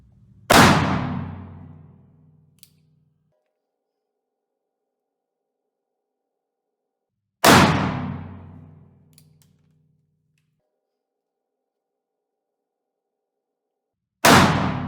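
Three loud black-powder shots from a cap and ball revolver firing a full 30 grain load over a lubed felt wad, each a sharp blast with a short decaying tail, spaced several seconds apart outdoors.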